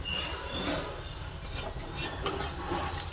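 Cumin and turmeric powder frying in a pan for a pumpkin dish, with a soft, continuous sizzle, light stirring and a few sharp utensil clinks near the end.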